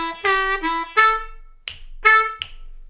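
D harmonica slowly playing a blues lick: several separate reedy notes, some held and bent, others short breathy stabs, played solo and close with gaps between phrases.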